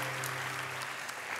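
A church congregation applauding during a sermon service, a dense continuous patter of clapping heard at a moderate distance, with a low hum underneath.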